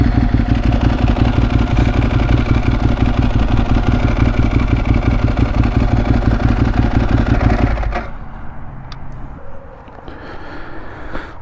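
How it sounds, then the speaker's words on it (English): Ducati 1098S motorcycle idling with its dry clutch rattling, a loud close continuous clatter over engine rumble for about eight seconds before dropping to a quieter, thinner idle. "I don't know if you guys can hear that drag clutch"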